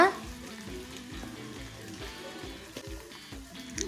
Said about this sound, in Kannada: ಈಗ ಮಸಾಲ ಸ್ಮೆಲ್ ಹೋಗೋವರೆಗೂ ಅದನ್ನ ಎಣ್ಣೆಯಲ್ಲಿ ಫ್ರೈ ಮಾಡ್ಕೊಳ್ಳೋಣ